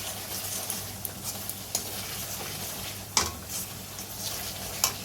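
A spoon stirs pasta sauce made with tomato ketchup in a pan, giving soft scraping and sizzling with occasional sharper clinks of utensil against the pan, fairly quiet and steady with no talking.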